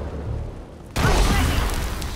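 Explosion from a spell in the Divinity: Original Sin 2 video game: after a quiet low hum, a single sudden loud blast bursts in and rumbles on with a crackling, slowly fading tail.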